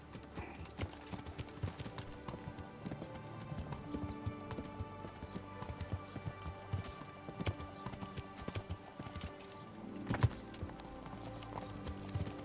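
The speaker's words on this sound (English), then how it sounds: "Jump, you stupid horse!" Horse hooves clip-clop steadily throughout in the medieval role-playing game Kingdom Come: Deliverance, a brisk continuous rhythm of light hoofbeats at moderate volume with a louder thump near the end.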